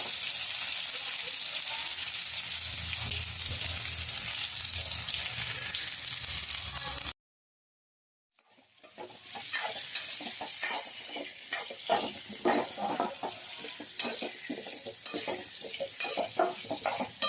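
Mango pieces fry in oil with mustard seeds, giving a loud continuous sizzle that cuts out briefly, then returns with a busier crackle and repeated clinks and scrapes of stirring.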